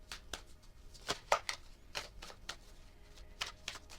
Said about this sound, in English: I'm going to take an archetype card from the Mantegna Tarot